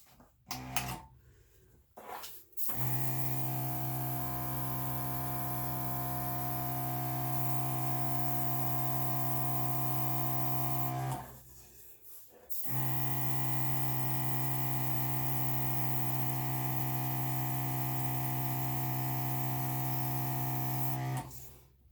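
An airbrush spraying acrylic paint for a pour-painting piece runs as a steady, close hum-and-hiss in two long bursts, separated by a short pause, with no voices.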